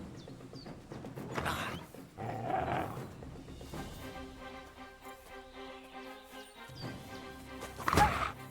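A dog in the video game Kingdom Come Deliverance 2 barks in a few short, separate bursts, moderately close, with hoof steps and quiet game ambience between them.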